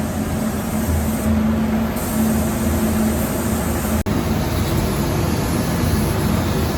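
Paint sprayed in a steady, continuous hiss for a second coat on the brake calipers of a BMW 1 Series, loud and close. The spraying runs almost unbroken, with one brief cut partway through.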